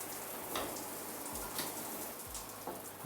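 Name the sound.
water running from a high-end apartment shower head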